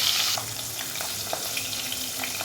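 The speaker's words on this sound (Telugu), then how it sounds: "మిర్చి అయితే ఫ్రై చేసుకుంటే బాగుంటుంది కదా" Green chillies and turmeric frying in hot oil give a steady close sizzle with faint stirring clicks, no one talking.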